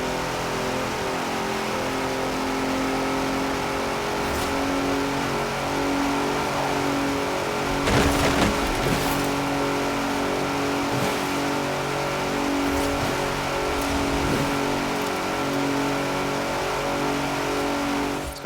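Race car engines in the Forza Horizon 4 video game rev and drone steadily for a long stretch, loud and continuous, with a brief burst of louder mechanical rattling partway through and no talk.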